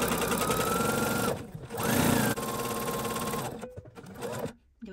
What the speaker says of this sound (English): Do a fixed stitch or a back stitch.